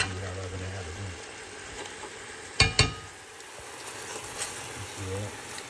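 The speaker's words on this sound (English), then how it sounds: "I'm just gonna kind of cook this down until the water evaporates and start frying again" Duck gravy sizzles and fries in a pan with a steady hiss, two sharp clattering knocks near the middle and a voice talking now and then over the cooking.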